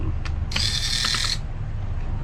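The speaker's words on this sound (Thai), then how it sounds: "ไขน็อตพัดลมก่อนเลย" Screwdriver backing out the fan screws inside an Acer Aspire One 14 laptop, giving a brief burst of close, dry ratcheting clicks and small metallic ticks against a steady low background hum.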